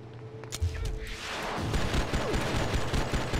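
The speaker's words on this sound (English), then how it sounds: "Did you just take my pistol and unloaded the entire clip on me?" Sustained gunfire from a pistol in the game Oni, with a few sharp initial shots that swell into a dense, continuous barrage as the clip is emptied, loud and without speech.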